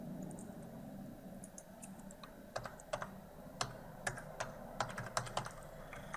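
Close, quiet keystrokes on a computer keyboard entering a date into a text box, a short irregular run of crisp taps over a soft background hum.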